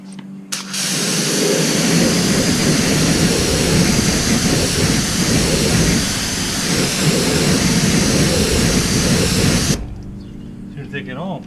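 A strong, steady hiss of water spray rinses off a car's exhaust tip, loud and close for about nine seconds before cutting off abruptly, with quieter handling noise afterward.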